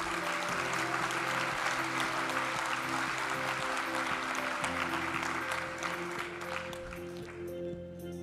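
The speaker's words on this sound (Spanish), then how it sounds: "A este grupo de licenciados en Filosofía y Letras, brindémosles un fuerte aplauso." Audience applause at a university graduation ceremony for philosophy and letters graduates, a dense steady clapping from a large crowd filling the hall, fading slightly near the end.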